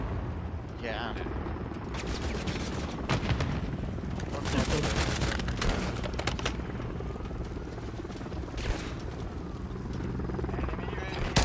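Rapid gunfire in the Call of Duty: Modern Warfare III multiplayer game: repeated sharp cracks and automatic bursts over a constant roar of game noise, with players talking over it.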